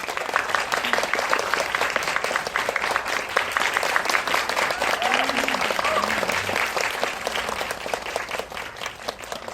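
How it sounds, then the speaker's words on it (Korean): A film screening audience applauds to welcome director Saito Takumi at a talk event, with loud, continuous clapping across the whole stretch and faint voices mixed underneath. "박수로 환영해 주세요."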